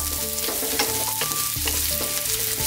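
Squash sautéing and stirred with onion, ginger and garlic for a tilapia coconut-milk dish: a loud, steady, close sizzle with quick, irregular knocks and scrapes of a utensil in the pan, no voices.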